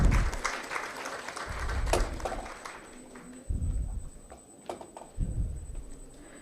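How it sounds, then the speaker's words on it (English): Audience applause at a medical lecture event, fairly faint and scattered, rising in short bursts with brief lulls between them. "Big round of applause."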